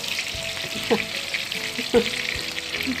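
Battered small yellow shrimp fritters deep-fry in hot oil with a soft, steady bubbling crackle and a couple of light utensil clinks, moderately quiet and close, without speech.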